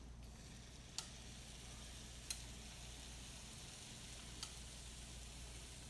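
Batter drizzled onto a hot waffle iron sizzles faintly and steadily at breakfast, a quiet hiss with a low hum beneath and three sharp ticks spaced a second or two apart.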